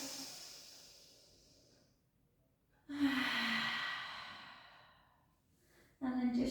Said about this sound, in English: take a beautiful breath in.